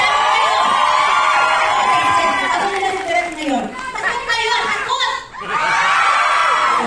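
A crowd at a media conference cheers, screams and whoops loudly, the roar rising and falling across the room with chatter mixed in.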